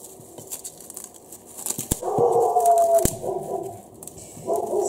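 A pet dog indoors in a home kitchen gives a drawn-out, high whimpering whine lasting about a second, with sharper yelps and clicks around it against a quiet background.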